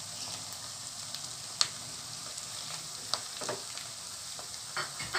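Sliced tomatoes frying with wilted onions in a pan make a faint, steady sizzle, broken by a few sharp clicks and scrapes of stirring.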